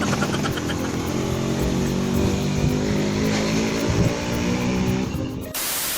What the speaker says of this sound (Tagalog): saglit muna, may tricycle.